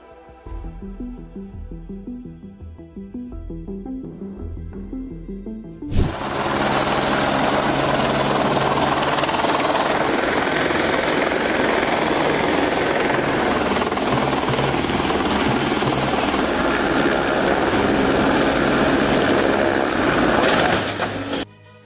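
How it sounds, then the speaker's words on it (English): A helicopter roars in suddenly and loudly after a quieter start over an ice pack, its steady rotor noise filling the air without letup until it cuts off. "A helicopter delivering food and mail to a vessel stranded in the ice pack"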